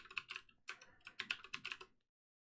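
Quick bursts of keystrokes on a computer keyboard while a password is entered, close and light clicking in two short runs with a brief pause, then silence.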